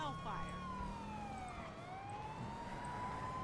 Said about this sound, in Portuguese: Deixa eu ligar a sirene aqui.